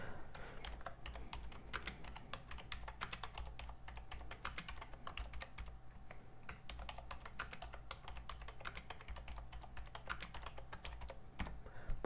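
Fast, steady typing on a computer keyboard while entering two passwords during an install with a chosen keyboard layout; dense, continuous key clicks close up, with no speech.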